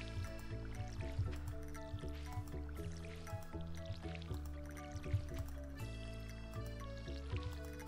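Watering parsnip crops in Stardew Valley gives a run of small dripping, splashing game sounds, repeating over steady background music.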